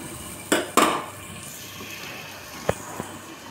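A cooking pot of pointed gourd with coriander leaves comes off the stove, with two sharp metal clanks close together early on and two lighter knocks later over a quiet kitchen background, with no talking.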